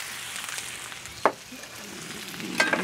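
Onions fry on a hot surface for smash burgers with a soft, steady sizzle. Two sharp spatula scrapes stand out as they are pushed around, close and without talk.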